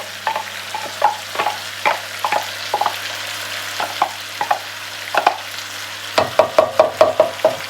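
Sauce poured into a pan of lamb pasanda sizzles while a utensil scrapes and stirs in a steady rhythm of repeated clacks, quickening toward the end.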